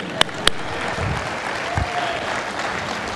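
Applause rises from a church congregation as a visiting preacher honors his wife, a steady wash of clapping with a couple of sharp nearby claps at the start and some murmuring underneath.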